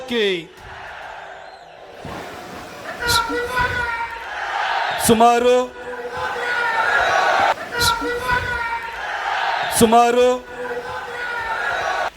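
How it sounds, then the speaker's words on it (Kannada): At a political event, a crowd chants slogans in support of Pratap Simha: loud, repeated shouted calls rise in waves over a general crowd din. "ಇದೇ ಕಾರ್ಯಕ್ರಮದಲ್ಲಿ ಪ್ರತಾಪ್ ಸಿಂಹ ಪರ ಜೈಕಾರ ಘೋಷಣೆ ಮೊಳಗಿದ್ವು"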